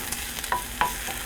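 Onions and peas cooking in a pan, a faint, low sizzle with a couple of sharp utensil clinks against the pan, brief and close.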